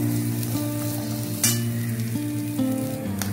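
Grated coconut frying in a pan until brownish gives a loud, steady close sizzle with a persistent low hum and occasional scraping stirs, no talking.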